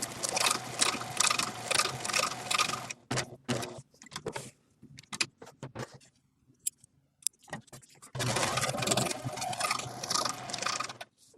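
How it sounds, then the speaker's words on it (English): Sewing machine running a zigzag satin stitch along a fabric edge, steady rapid mechanical chatter in two long bursts with a pause of clicks and handling between, close and fairly loud. "butt the edge up against the needle, and start sewing again."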